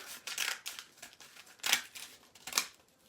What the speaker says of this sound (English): I'm going to cut them right in half. And then I'm going to cut them again in half.